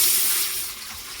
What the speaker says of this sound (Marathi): आता त्यान मी ना पाणी ओतता